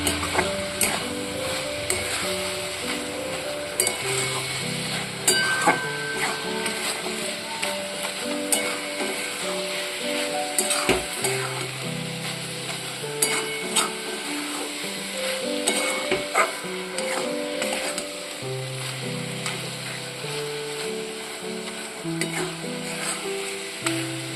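A spoon or spatula stirs a cooking mixture in a pan after milk powder is added, for a pitha sweet, with steady scraping and soft sizzling that continue throughout, close and moderately loud, no talking.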